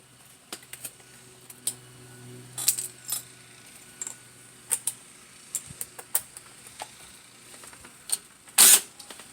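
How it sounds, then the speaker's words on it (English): Metal wrench and bolt clicks as 10mm bolts come off the clutch cover of a 2001 Yamaha V-Star 1100 motorcycle, a series of sparse, sharp ticks and clinks close by, with a louder rattle near the end. "These look like 10mm bolts. So we got the 10mm here. We go ahead and unscrew these."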